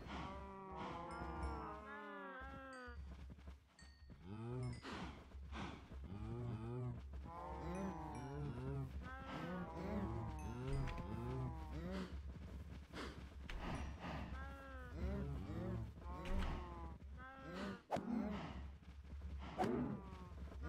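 Cattle moo repeatedly at close range, overlapping calls of varied pitch forming a loud, continuous chorus with steady low rumble underneath and no speech.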